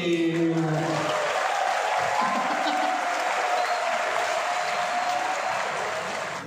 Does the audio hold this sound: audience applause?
yes